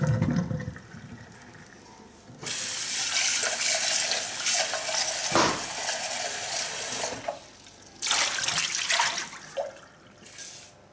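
Boiled potatoes being drained into a kitchen sink for warm potato salad, a loud steady rush of pouring water lasting several seconds, stopping briefly and then pouring again in a second burst.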